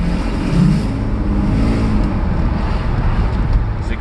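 A Mercedes S600 W140 with a repaired electronic throttle accelerates in second gear, heard from inside the car as a loud, steady engine roar over road noise, with no talk.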